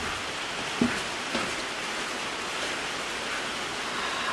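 Steady rain pours down in a dense, even hiss, with a couple of faint knocks early on, heard from inside a renovated wooden school building in Shirahama, Chiba, Japan.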